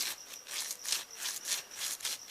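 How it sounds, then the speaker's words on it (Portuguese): A rhythmic, hissing abrasive rasp from sandpaper against a Makita 4100NH armature spun by a drill, pulsing in quick strokes, close and fairly quiet with no talking. "coloca uma pequena lixa aqui e gira ele"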